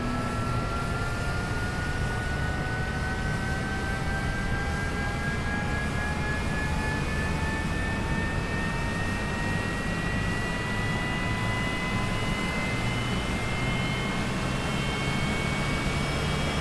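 Pilatus PC-24 business jet engines in Microsoft Flight Simulator, a loud, constant turbine roar with rising whining tones that climb slowly and steadily throughout, with no talking.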